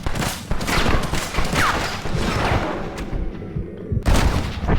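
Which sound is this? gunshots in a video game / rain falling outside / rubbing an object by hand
gunshots in a video game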